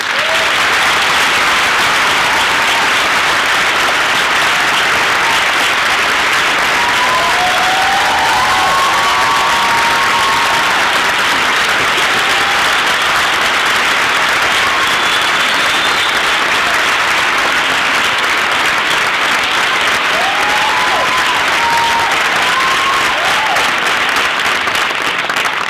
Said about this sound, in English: Can we have a spirited round of applause for the performers